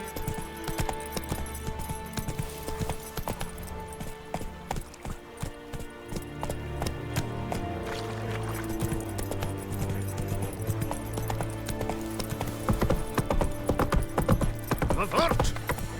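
Roach the horse gallops in The Witcher 3, with rhythmic hoofbeats running through game music and effects for a sustained stretch.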